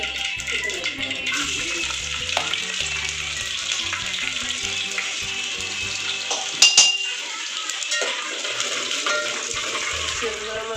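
Finely chopped garlic sizzling in hot tempering oil for sambar, a steady bright frying hiss with utensil clinks and scrapes, and a louder clatter partway through.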